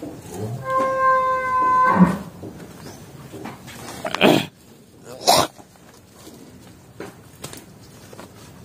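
Cattle on a Ben Tre livestock farm, one long mooing call with clear harmonics near the start, then snorts, coughs and scattered barn noises at close range.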